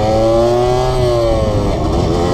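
A motorcycle ridden by a newly licensed rider accelerates loudly and close by, the engine tone climbing steadily as it pulls away, continuous and dominant with no talking.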